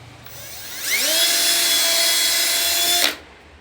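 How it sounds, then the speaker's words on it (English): A power drill whirs up to a high steady whine, grinding through a pane of glass for about two seconds, then winds down abruptly; loud and close. "So drill right through here."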